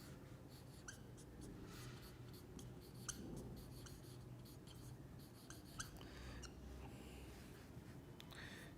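A heading being written on a board during a chemistry lesson, a continuous series of close, scratchy strokes and small taps with soft breathing in the background and no talk.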